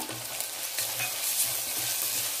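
Chopped vegetables with masala fry in a pan, a soft steady sizzle broken by a few quiet stirring scrapes, no speech.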